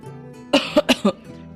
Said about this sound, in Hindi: वो बूढ़ा खांसते हुए कहता है